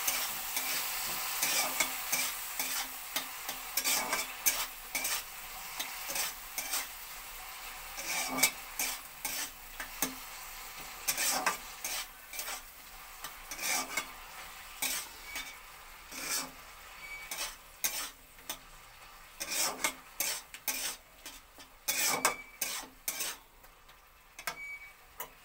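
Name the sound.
stirring and frying tomato chutney with chili powder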